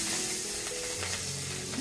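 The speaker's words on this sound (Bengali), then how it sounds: "আমি এখন এগুলো ভেজে নিচ্ছি।" Food frying in hot oil in a pan, a constant close, loud sizzle with faint stirring and bubbling.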